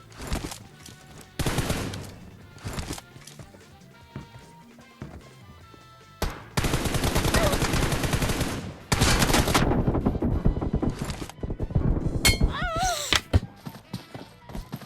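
Gunfire in the mobile battle royale game PUBG Mobile, with loud bursts of automatic fire and scattered shots in clusters across the span, mixed with other game sounds.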